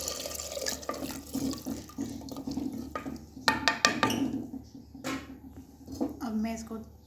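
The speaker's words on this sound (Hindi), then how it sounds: "अब भूनने के बाद मैं इसमें पानी लगाऊंगी ताकि आलू भी हमारे पास गल जाए।" Water is poured into a pan of frying potatoes for aloo keema, giving a steady splashing, bubbling wash with small clinks of a utensil, while a voice speaks faintly in the background.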